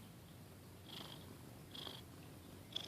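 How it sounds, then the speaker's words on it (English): A house cat purring softly while resting on a person's lap, a faint, continuous rumbling purr with a few gentle breathy pulses, close but quiet, with no one speaking. "lots of kitty purrs"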